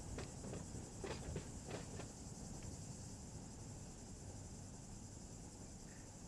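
A freight train rolls slowly through a yard in the Run 8 train simulator, a faint steady rumble with a constant high hiss and a few soft clicks near the start.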